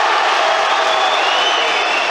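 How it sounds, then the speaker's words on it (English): Judo crowd at the Tbilisi Grand Slam final, a dense, steady roar of cheering and whistling from a packed arena that stays loud and unbroken throughout. "Crowd are on their feet."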